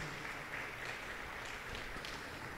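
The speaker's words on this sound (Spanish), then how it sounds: "Un fuerte aplauso para todos y cada uno de ellos." Applause from a congregation in a church during a novena for the Immaculate Conception, a steady, fairly faint patter of clapping.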